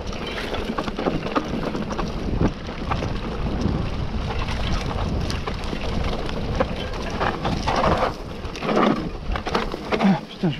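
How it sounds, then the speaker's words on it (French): Rain falling during a mountain bike ride, a dense steady patter with scattered sharper drop hits and rustling, fairly loud and close throughout. "La pluie a l'air de se calmer."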